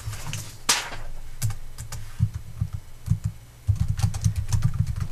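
Keys clatter on a computer keyboard in quick irregular bursts of close, crisp clicks, with a short pause midway before the typing resumes at a denser pace.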